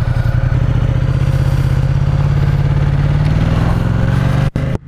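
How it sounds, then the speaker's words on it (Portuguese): A Ducati X Diavel twin-cylinder L-twin motorcycle engine idles and revs close up with a lumpy, throbbing pulse, loud and steady, cutting off abruptly near the end. "Característica do barulho de motor da Ducati."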